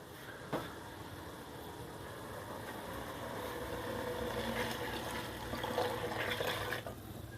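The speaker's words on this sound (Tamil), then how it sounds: "அந்த தண்ணியை வந்து இப்போ நான் சேர்க்க போகிறேன்" Water poured steadily into a cooking pot for vegetable biryani, a continuous soft splashing and filling rush lasting several seconds, fairly faint and close, with no talking.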